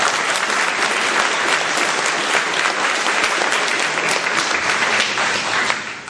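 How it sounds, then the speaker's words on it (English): Sustained, dense applause from an audience at a village public meeting in Kaslo, steady and loud throughout before tapering slightly at the end. "I think you deserve a round of applause for that"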